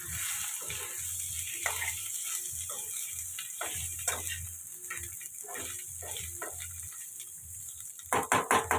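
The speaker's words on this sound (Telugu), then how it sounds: "ఇలా ఫ్రై అవుతుంది కదండి" Chicken biryani masala with turmeric fries in a pan, a soft steady sizzle punctuated by repeated scraping stirs and clinks of a spoon, close and moderately quiet, with a few louder knocks at the end.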